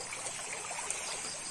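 River water flowing steadily in a stream during night fish hunting, a continuous bright hiss and babble heard close, with no talk over it.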